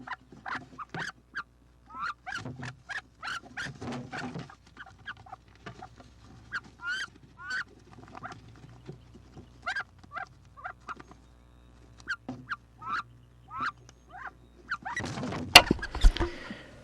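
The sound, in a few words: wood ducks fighting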